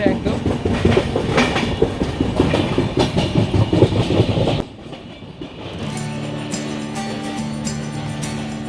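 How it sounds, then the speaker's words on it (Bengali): The Jammu Tawi Express rolls at speed past Dakshineswar, a loud close rumble with rhythmic clickety-clack from the wheels for several seconds, then music takes over. "ট্রেন ভালো স্পিডে আছে।"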